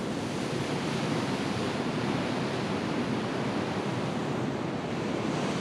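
Ocean waves at Whalers Way on the Eyre Peninsula: a continuous, close roar of surf mixed with wind noise, steady and loud with no voices.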